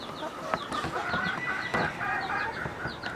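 Chickens cluck in a coop, a dense overlapping chorus of short clucks and squawks from several birds close by, with scattered higher calls throughout and no talk.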